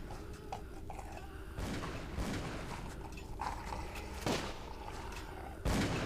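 Gunfire in the horror video game Call of Cthulhu: Dark Corners of the Earth, heard as several sharp, distant booming shots spaced irregularly over a low rumbling background.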